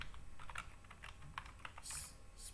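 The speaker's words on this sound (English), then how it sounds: "I type a command called pip" Typing a pip install command on a computer keyboard, a quick irregular run of close, light key clicks in a quiet room.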